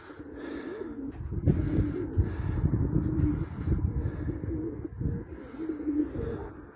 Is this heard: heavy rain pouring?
no